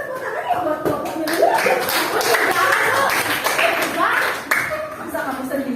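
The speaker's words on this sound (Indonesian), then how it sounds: "kita kasih tepuk tangan ya buat kelompoknya." Schoolchildren in a classroom clap for a group at the front, uneven hand-claps mixed with chatter, a few chuckles and shuffling, with voices talking throughout.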